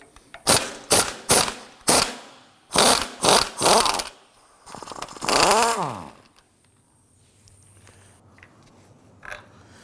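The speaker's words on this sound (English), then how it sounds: "We're going to use our 21mm socket to loosen and remove the nut on the top." A 21mm socket on a power tool loosening the top strut nut of a 2003-2014 Volvo XC90 front strut assembly: a string of sharp, loud bursts, then a longer whirring rise and fall before it goes quiet.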